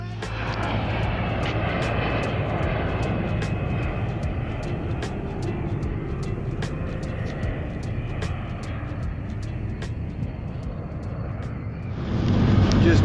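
An aircraft near an airport roars steadily overhead, a loud continuous engine drone that swells louder at the end.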